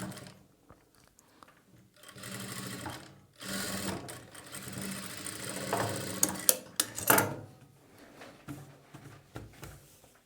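A sewing machine runs in several bursts while stitching a boat-neck blouse, its steady mechanical whirr rising and stopping with pauses and small clicks between runs, close and moderately loud with no talking.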